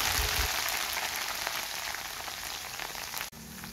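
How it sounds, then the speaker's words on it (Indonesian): Anchovies (teri) frying in hot oil for a stir-fry with petai give a steady, dense sizzle and crackle throughout, close and fairly loud, with a brief cut near the end. "kemudian goreng teriknya."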